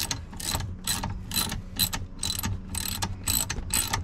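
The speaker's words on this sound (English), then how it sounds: "So now the seat is tightened down on the front two there" A ratchet tightens bolts on a swivel seat for a Freightliner M2 chassis motorhome, a rapid, steady run of about eight close clicking bursts in even rhythm.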